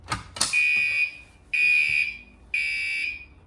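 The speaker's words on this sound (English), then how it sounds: "whenever the piezo's on and the alarm is sounding off, it sounds a little weird" A couple of clicks, then a loud, shrill piezo alarm beeping in three long pulses with brief gaps between, close and piercing.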